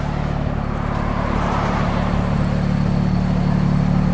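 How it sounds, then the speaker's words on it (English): Engine and exhaust of a 2007 BMW 335i convertible with a folding hard top, heard as a steady, loud mid-pitched drone that builds slightly over a few seconds on the road, with no talking. "Nice sound from the exhaust."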